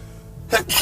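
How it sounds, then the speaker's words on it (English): A single sudden sneeze bursts out after a moment of quiet, short and loud, close to the listener. "I feel like I got to sneeze and I'm trying not to"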